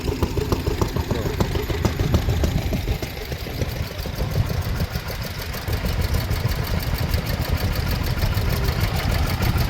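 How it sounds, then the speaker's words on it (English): A 1954 Lister D stationary engine made in Dursley, Gloucestershire, running steadily nearby with a rapid, even thumping beat and a low mechanical chug throughout, no talking. "Lister D there. Made in Dursley in Gloucestershire."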